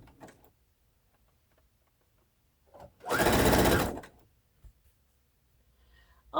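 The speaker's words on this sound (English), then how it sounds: "now we're going to sew up that center seam" A sewing machine stitches the center seam of pants made from a tablecloth, with lace trim and a ruffle already attached. One steady, close whirring run of about a second sits between quiet gaps and small handling clicks.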